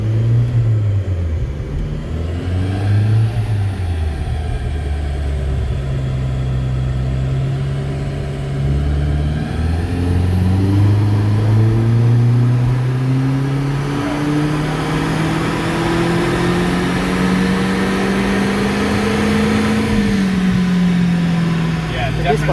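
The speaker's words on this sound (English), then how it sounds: "Definite misfire through the low there." Turbocharged car engine on a dyno climbing steadily through a long rev run, rough and uneven low down from a misfire before smoothing out, loud and sustained with voices talking over it.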